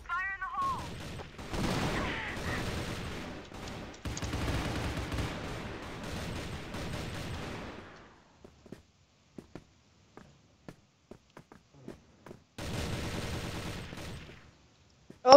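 Rapid bursts of P90 submachine gun fire in the CrossFire shooter game: dense, loud automatic volleys for about eight seconds, then scattered single shots and clicks, then another heavy burst near the end.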